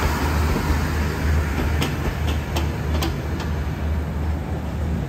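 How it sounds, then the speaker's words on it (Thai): Thai SRT southern line special trains 38 and 46 roll past at night with a steady loud rumble, and a string of sharp clicks from the wheels crossing rail joints sounds midway through, with no voices. "รถตัวพิเศษขบวนที่38และ46ออกสุราษฎร์ธานีครับพวงจัดเต็มไม่แพ้ขบวน172เลยนะ"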